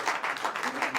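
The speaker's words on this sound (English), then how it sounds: "You're clapping." Live audience clapping at a talk-show event, a dense steady patter of many hands swelling and easing in brief waves over about a second, fairly loud and close with no voices on top.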